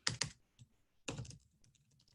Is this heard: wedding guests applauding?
no